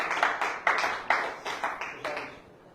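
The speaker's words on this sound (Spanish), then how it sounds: "Aplaudo al Rey, por favor." A church congregation claps in rhythmic bursts, sharp close-sounding hand claps repeating about every half second before fading at the end.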